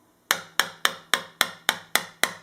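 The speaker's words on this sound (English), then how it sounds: "You hear that? That's the sound of a nicely seated fret." A box wrench taps along a well-seated fret wire on a guitar during a refret, giving eight sharp, evenly spaced taps close up with no voices.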